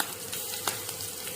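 Green chillies frying in a pan give a quiet, steady sizzle and crackle, with a few small pops and no voices.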